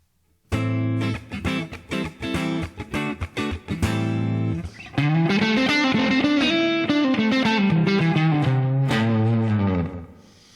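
An electric guitar through a Line 6 Helix with distortion, first a choppy palm-muted rhythm riff of short chugs and stabs, then a sustained singing lead line of bending notes, loud and close with nothing else heard.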